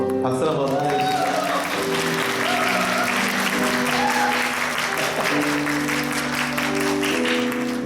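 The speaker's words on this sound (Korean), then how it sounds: "박수 한번 해주시죠" A church congregation at a Sunday worship service claps steadily in warm applause for two elderly visitors, sustained throughout while organ or keyboard chords ring underneath.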